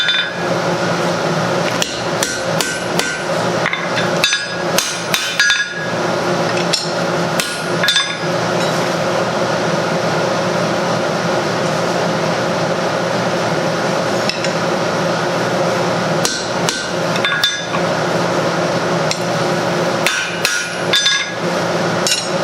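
Hammer blows on metal knee tongs laid on an anvil to forge an offset, loud ringing clanks in uneven clusters and rapid runs, close up over a steady forge roar.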